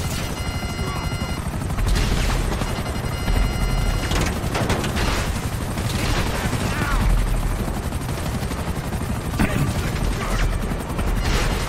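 Gunfire and helicopter noise from a GTA V game session form a dense, continuous loud roar with repeated bursts of shots throughout.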